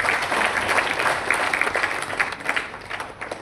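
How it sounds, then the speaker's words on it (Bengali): Audience applause at a banquet, a dense, steady wash of many hands clapping that carries on without a break, with a brief swell partway through before easing slightly toward the end. "ওদের জন্য একটা বড় করে তালি চেয়ে নেব"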